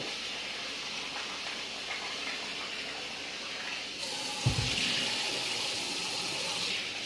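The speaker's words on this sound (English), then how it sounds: "I always rinse my rice until the water runs more or less clear" Tap water runs steadily into a sink while rice is rinsed, growing louder partway through as the flow changes, close up with no talking.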